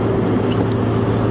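Car engine idling with the window cracked open, a loud, steady low rumble and airy hiss filling the short stretch with no speech.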